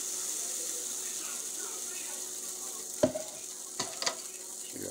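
Pancake batter cooking in plenty of butter in a pan gives a steady, soft frying hiss throughout, with a few brief clinks of a utensil near the end.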